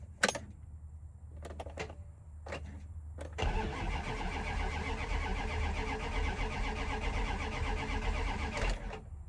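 An old truck engine with a weak battery, first a few short clicks and clunks, then a steady, loud cranking that spins over continuously for about six seconds without catching before stopping.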